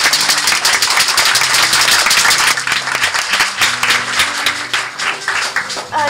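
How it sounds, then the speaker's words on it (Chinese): A crowd at a Keelung event honouring social workers breaks into warm, sustained applause, with dense clapping throughout and faint music in the background. "我们给他们一个热烈的掌声，好吗？"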